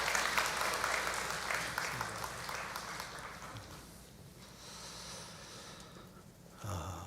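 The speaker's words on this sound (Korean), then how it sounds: "우리 큰 박수로 축복해 주시기 바랍니다" A church congregation applauds together during a Sunday worship service, a loud sustained wash of clapping that gradually thins and fades toward the end.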